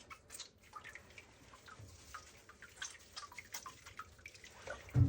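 Water drips and trickles from a wet dog being wrung out during a bath, soft scattered patters close by in an otherwise quiet room.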